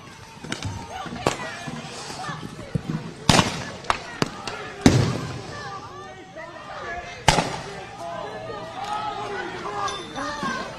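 Flashbangs and tear gas rounds fired by agents at protesters in Minnesota: several sharp bangs and pops, some near and loud, scattered across a noisy street scene with crowd chatter and talking throughout.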